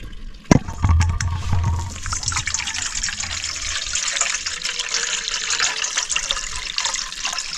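Water poured into a container to make salt water for washing strawberries, a steady close pour after a sharp initial splash, running continuously with no talk.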